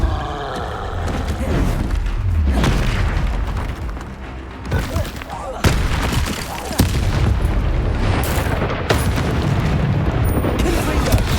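A Repulso spell strikes a troll in the video game Hogwarts Legacy, one of a dense run of loud booming blasts and impacts amid constant battle noise, with voices shouting over it.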